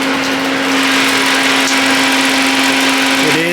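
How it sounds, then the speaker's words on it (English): A Ford Focus engine runs with its radiator cooling fan going, making a steady, close whirring drone that holds a constant hum throughout, with no talking. "it does sound like the fan is going"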